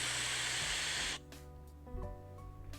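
A mesh coil vape sends out a loud, airy hiss during a draw for about a second, then stops abruptly. Faint background tones and small clicks follow.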